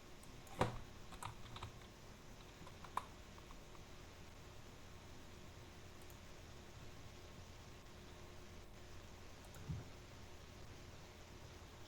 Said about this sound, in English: Ούτε mechanical keyboard να έχεις, δεν θα ακούγονται τόσο πολλά.